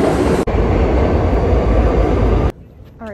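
A New York City subway train roars close by with a loud, steady rumble and rattle, then cuts off abruptly to a much quieter station background.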